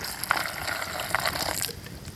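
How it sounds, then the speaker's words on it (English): Water poured into a camping pot of chicken pie mix, a steady gushing, splashing pour close by that runs for a couple of seconds and then tapers off. "And Sherry is going to add water."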